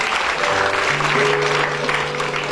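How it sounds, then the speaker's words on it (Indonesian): A church congregation at a gospel ministry service applauds loudly and steadily, dense clapping throughout with a held musical tone underneath. "kasih tepuk tangan paling meriah buat dia"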